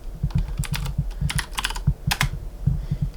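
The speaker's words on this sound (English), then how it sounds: "Very nice keyboard, it's nice and clicky. We've got MX Blues on there." Typing on a Ducky One keyboard fitted with Cherry MX Blue switches gives crisp, rapid clicky keystrokes in uneven bursts, close and clear with nothing else in the background.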